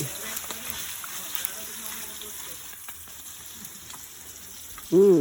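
Steady sizzling of an upside-down egg frying in a pan at a summer campsite, a soft continuous crackle throughout, with a voice briefly speaking at the very end.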